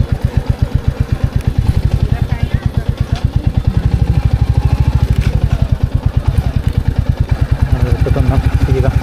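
A motorcycle engine thumps with a fast, even rhythm while riding slowly near Tirathgarh waterfall, loud and close throughout, with a voice speaking faintly underneath.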